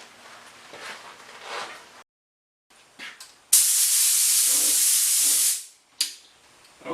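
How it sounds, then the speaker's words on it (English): A spray gun hisses steadily for about two seconds, laying a final build finish coat on a mandolin, loud and close, with softer shop noises and short bursts before and after. "the 4th and final build coat has been sprayed on it"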